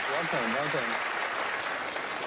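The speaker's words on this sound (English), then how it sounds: "Everyone give Teller and Allison a great big round of applause" Studio audience applause on the Penn & Teller Fool Us magic show, a dense steady wash of clapping that runs the whole time while a voice speaks over the first second.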